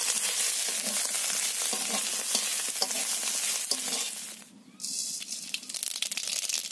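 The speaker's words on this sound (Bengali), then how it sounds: "সর্ষে ফোড়ন দিয়ে দিলাম" Mustard seeds tempering in hot oil, a dense close crackling sizzle that briefly dips, then resumes with scattered pops, no talk.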